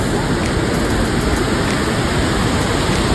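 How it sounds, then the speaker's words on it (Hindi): Birdi Fall, a waterfall about 125 metres high at Munsiyari, pours as a dense, constant roar, loud and close, with no other sounds. "दिखाई दिया बिरदी फॉल, लगभग 125 मीटर हाइट का एक मैसिव वाटरफॉल"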